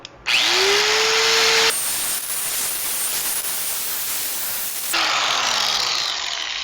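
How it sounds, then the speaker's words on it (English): A pneumatic air file grinds down a proud weld on a Speedking droptail kit, starting with a loud hiss and steady rasp, then easing into a lighter, quieter buzz before the loud grinding returns near the end. "now I'm going to take my air file and work the weld proud down a little bit"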